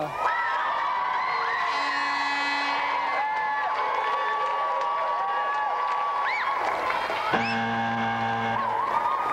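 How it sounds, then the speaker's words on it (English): A TV game-show studio audience cheers, whoops and shouts over sustained electronic tones and music, staying loud and continuous throughout. "So let's have another round of applause for Nino, Martino and Angelo Guardiano."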